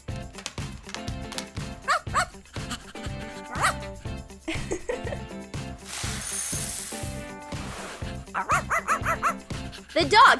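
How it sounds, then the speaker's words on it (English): Dogs bark and yip at feeding time for pets at lunch, with repeated short yaps scattered through about ten seconds over steady background music and voices. "The dog immediately ate all the food!"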